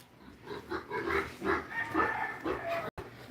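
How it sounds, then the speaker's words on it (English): A loose pig grunts and snorts in a run of short rough oinks, fairly close and moderately loud, with faint background noise and no speech. "Pig alert"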